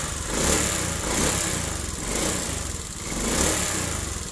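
A Honda Beat fuel-injected scooter engine, hard to start, runs with a steady, buzzy drone that swells and dips in a slow rhythm, close by with no talking.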